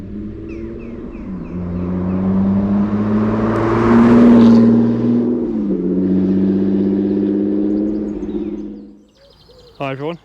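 A 1988 Jaguar XJ-S with a manual gearbox drives through the Chilterns, its engine a steady droning hum that swells and eases over several seconds before cutting off, followed by a brief high chirp near the end.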